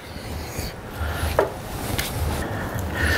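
A knife trims soft bone from the end of a rack of pork ribs: quiet scraping and cutting with one sharper crunch midway, close and faint.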